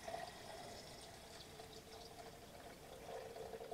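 Water is poured from a graduated jug into the tank of an ultrasonic cleaner, a faint, continuous splashing trickle that runs throughout.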